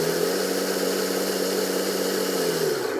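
Custom RC 6x6 770s scale tractor truck with a 3-speed transmission, its electric motor humming steadily in medium gear, a close, continuous whine with gear buzz that drops slightly at the very end.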